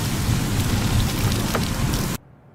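Heavy, steady rain pours with a dense hiss and low rumble, loud and close, then cuts off abruptly into near silence.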